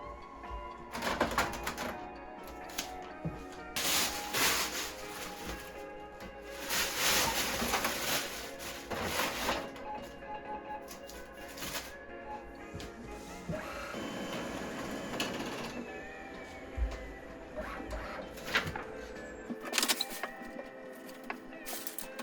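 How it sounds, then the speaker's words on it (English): A copy machine runs through a batch of copies indoors, with repeated whirring feed cycles, clicks and mechanical shuffling over about twenty seconds, fairly close and steady. "let's head over to the copy machine and make some copies of this"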